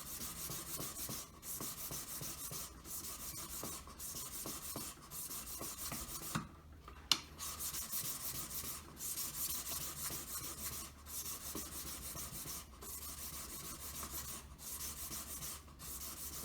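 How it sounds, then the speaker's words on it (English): A wedding ring being hand-buffed with fine buff sticks, making steady rhythmic rubbing strokes about once per second, close and quiet, with a brief clack midway and no talk. "Now that I'm very close, I'm moving on to the finer buff sticks."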